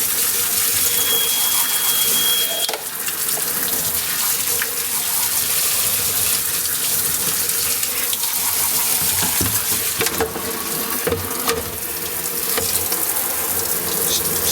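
Running water rinses a 25-inch K7400 arcade monitor circuit board under a tap, a steady close gush with broadband splashing and a few brief clunks, no talking.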